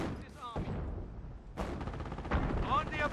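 Grenadiers open fire in Company of Heroes, with bursts of rifle and machine-gun fire and heavy booming impacts, two sharp loud blasts separating rolling gunfire, while voices shout beneath the combat.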